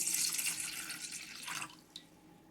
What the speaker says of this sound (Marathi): हे गाळून घेऊया.